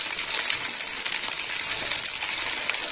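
Turmeric powder and spices with green chilli frying in hot oil for a katla fish-head dish, a steady close sizzle and crackle running unbroken, with no talk.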